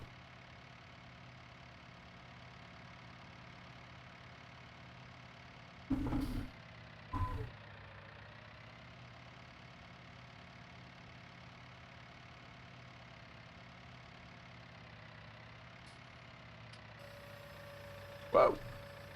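A tractor engine idles steadily in Farming Simulator 19, a constant low hum broken by a couple of brief knocks and a short clunk near the end.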